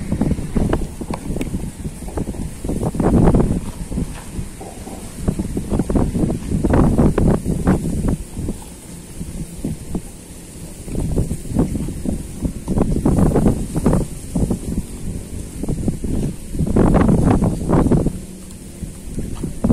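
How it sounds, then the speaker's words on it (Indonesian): Wind at a seaside fishing spot buffets the microphone in repeated rough gusts and rustling bursts, loud and close, with no talking. "Soalnya angin teman-teman, kalau kita pakai kering habis tepungnya ditiup sama angin."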